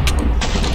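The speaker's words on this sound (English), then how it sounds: "every time you right click, it's causing an explosion in the wrong area" Explosions triggered by right-clicking in a modded Minecraft game go off in quick succession, two or three loud, close booming bursts in under a second.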